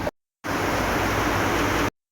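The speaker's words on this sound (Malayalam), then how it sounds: "നല്ല മഴ പെയ്തുകൊണ്ടിരിക്കുന്നുണ്ട്." Heavy monsoon rain pours down at a home, a loud, steady broadband hiss that fills the short clip without letup, with abrupt silent gaps at the start and end.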